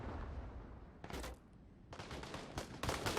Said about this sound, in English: I'm hearing a lot of gunfire for them just cleaning up a tank crew.